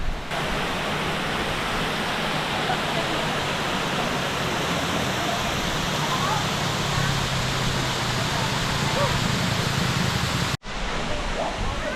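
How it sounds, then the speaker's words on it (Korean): A steady, loud roar of a waterfall near Oslob, Cebu, Philippines fills the scene without pause, broken only by a brief cut near the end before the rush resumes. "저기 폭포가 보입니다"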